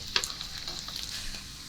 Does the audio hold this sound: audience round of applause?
no